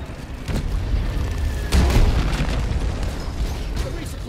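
Sticky grenade exploding in Deep Rock Galactic during a Magma Core deep dive, a couple of heavy booming bursts with a rumbling tail amid busy game noise.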